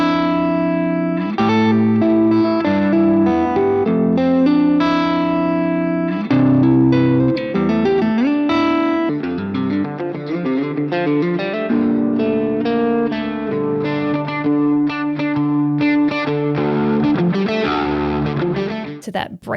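Electric guitar through an amp's green boost channel, slightly distorted break-up tone, playing chords and melodic lead lines with reverb and echo, loud and close, continuous for the whole stretch with no talk.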